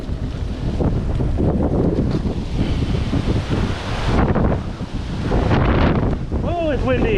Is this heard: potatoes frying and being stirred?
no